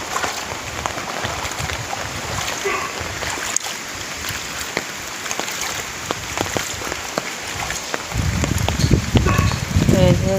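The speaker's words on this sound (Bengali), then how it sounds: "জানি না এই বৃষ্টি কতক্ষণে বন্ধ হবে।" Heavy monsoon rain pours steadily over flooded ponds, fields and a garden, a dense hiss of drops that swells louder and heavier near the end.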